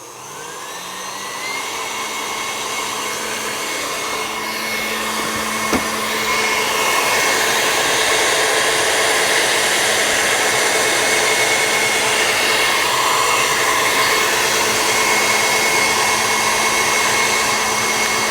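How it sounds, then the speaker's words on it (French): An electric hand mixer beats eggs and sugar for a peach and salted caramel tiramisu, giving a loud, continuous motor whir that swells slightly in the first seconds and then holds steady, with no talking. "Avec le batteur qui est en mouvement. Pas trop lent, pas trop rapide."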